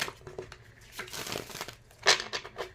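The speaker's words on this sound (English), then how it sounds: "I'm just gonna show you guys my shuffling process" A deck of tarot cards is shuffled by hand, giving soft crinkly riffles and slides with one sharper snap near the end, close and fairly quiet with no talking.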